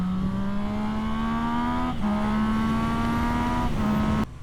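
Sport bike motorcycle riding along with a steady buzzing engine note that climbs gently, briefly dips twice as if shifting, then cuts off near the end, heard up close with wind noise.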